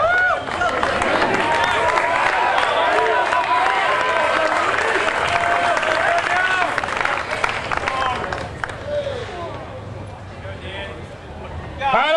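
At a high school lift-a-thon, a crowd claps and cheers loudly for a weightlifter, dense continuous applause with shouts that tapers near the end, while an announcer talks over it.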